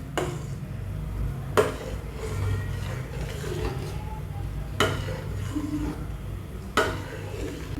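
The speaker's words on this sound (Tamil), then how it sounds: "பால் சேர்த்து நல்லா மிக்ஸ் பண்ணிக்கலாம்." Milk being stirred into a pot of sago and vermicelli payasam, with clinks of a spoon against the pot standing out about three times over a steady low simmering hiss.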